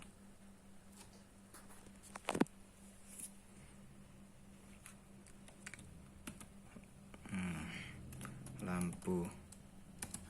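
Keys tapped on a computer keyboard while testing a simple IoT light-control setup, a soft scattered patter over a steady room hum, with a person talking briefly near the end.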